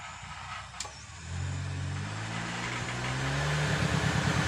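An electric vehicle motor spins up when the dual-sensor accelerator pedal is pressed, giving a close, rising whine with a steady hum beneath that grows gradually louder.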